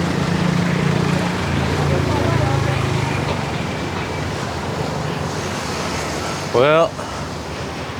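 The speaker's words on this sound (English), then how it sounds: "Dude, the wind is kicking in." Steady outdoor wind rushes and buffets the microphone in a broad, continuous roar, with a short burst of speech near the end.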